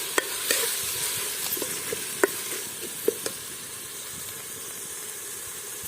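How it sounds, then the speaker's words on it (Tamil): Vegetables sautéed and stirred in a pan for a village-style veg biryani give a steady, moderate frying sizzle and hiss, with scattered sharp clicks of a spoon against the pan. "ஒரு வதக்க வதக்கலாமா? மிக்ஸ் பண்ணியாச்சு."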